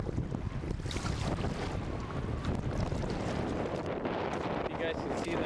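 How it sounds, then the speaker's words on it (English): Strong wind roaring steadily across open water on a frozen winter canoe trip, a constant broadband rush with buffeting against the microphone and faint speech buried underneath. "I'm sure you can hear plenty of that wind."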